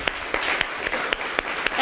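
Audience applause at the Columbia University Edward M. Kennedy Award ceremony honoring a playwright: steady clapping with a few sharper claps standing out over nearly two seconds.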